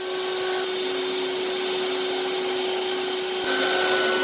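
Router fitted with a two-flute cutter profiling a wooden shoe horn, a loud steady high-pitched whine holding constant throughout, with a slight shift in tone near the end as the cut changes.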